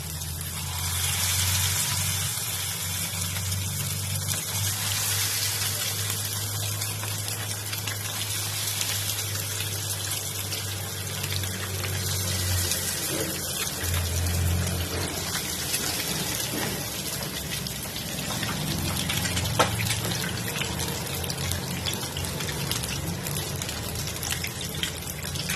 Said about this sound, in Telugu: ఇప్పుడు ఫ్రై చేసుకోవడానికి ఒక్కొక్క పీస్ అనేది ప్యాన్ మీద వేయాలి.